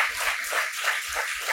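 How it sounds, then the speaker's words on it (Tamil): A church congregation at a Bible study gives a brief burst of clapping, a soft, dense patter of hands lasting just over a second. "ஒரு கைதட்டு கொடுக்கலாம் கர்த்தருக்கு"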